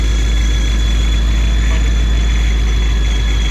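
Ford Mustang GT S650 V8 with its air filter on idles steadily close by, a loud, even low rumble with no voices.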